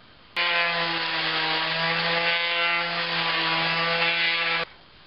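A power sander works wood for a homemade wooden camera tripod, starting abruptly, holding a steady loud whining drone with a strong even hum for about four seconds, then cutting off.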